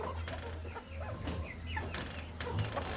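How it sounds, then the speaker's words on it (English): A mixed flock of Americana, Chanticleer and Cochin cross chickens clucking steadily in a farm enclosure, overlapping close calls with a constant low hum beneath. "In here we have a mixed flock, crosses between Americana, Chanticleer, Cochin."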